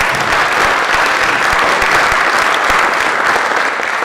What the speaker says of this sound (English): we ought to give Mary a round of applause